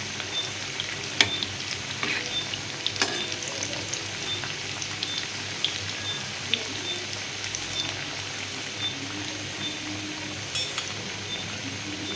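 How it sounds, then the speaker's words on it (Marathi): Coriander vadi pieces frying until crisp in a pan, a steady close sizzle and crackle with occasional scraping clicks as the pieces are turned. "पलटून घेऊया आलटून पलटून वड्या छान भाजून घेऊया"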